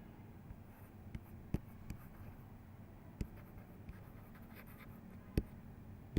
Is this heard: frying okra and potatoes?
no